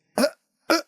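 A human voice imitates a hiccup twice, each a short, sharp, breathy gulp about half a second apart, close and clear against silence.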